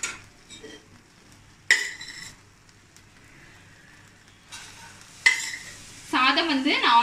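Cooked rice is stirred into sautéed mango in a pan for manga malli sadham, with a few loud clattering scrapes of the spoon breaking through a faint sizzle and quiet gaps.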